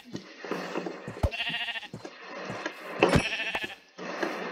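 Minecraft sheep bleat repeatedly in short wavering calls, several distinct baas spaced across a few seconds over faint game ambience.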